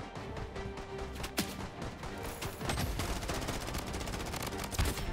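Rapid automatic gunfire in the mobile shooter Bloodstrike, dense overlapping bursts and single sharp shots running throughout, heavier in the second half, with no talk over it.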